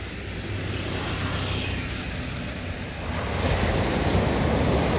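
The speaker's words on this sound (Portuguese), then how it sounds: "Parece que a maré tá subindo agora." Ocean surf rolls onto Balneário Camboriú beach as the tide rises, a steady broad wash of breaking waves with wind buffeting the microphone; the surge grows louder near the end, and no one speaks.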